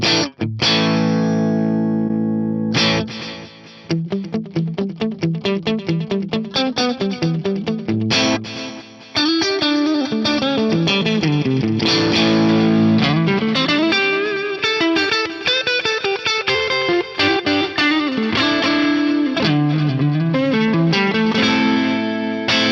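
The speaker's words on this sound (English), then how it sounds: "Let's just hear the normal delay" An electric guitar runs through a St. Rock REACT:IR II reactive loadbox with a distorted tone and delay, playing chords and melodic runs whose repeats trail after the notes.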